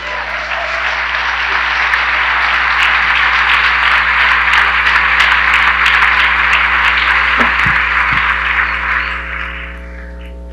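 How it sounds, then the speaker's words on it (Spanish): Dense, sustained applause from a large church congregation fills the whole stretch at high volume, thinning slightly right at the end. "Todavía le podemos dar un aplauso al Señor."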